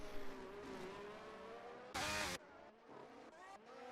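Race cars in a video game race on the Brazil circuit, steady engine whine with shifting pitch as cars pass one another, and a short loud burst partway through.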